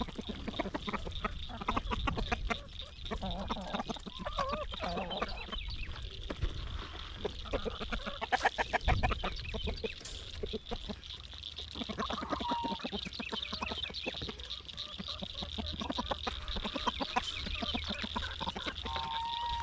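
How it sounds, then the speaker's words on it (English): Chickens cluck and murmur steadily throughout, with occasional rooster-like calls standing out over a busy, close farmyard background. "That's a good rooster right there."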